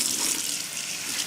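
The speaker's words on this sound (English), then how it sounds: "just run some water on it, not too much, just enough to get it wet" Water running from a tap onto a cleaning sponge, a steady close hiss of flowing water with no talk.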